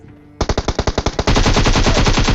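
Rapid automatic gunfire in the video game PUBG, a burst of distinct loud shots that merges into a continuous dense roar of overlapping fire, close and alone without speech.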